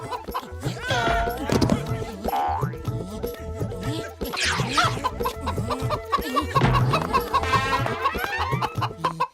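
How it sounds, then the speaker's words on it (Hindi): Cartoon chicken clucking and squawking in a Hindi animated comedy chase, with springy boing effects, music and excited voices around it, busy and loud throughout. "क्या मोटू तुम एक मुर्गी भी नहीं पकड़ सकते?"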